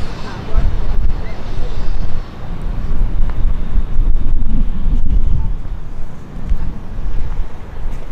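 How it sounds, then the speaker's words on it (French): Wind gusts roar against the microphone at Santa Bárbara Castle in Alicante, Spain, a heavy low rumble that drops briefly and then builds again. "il y a un petit courant d'air, un petit vent frais qui fait du bien"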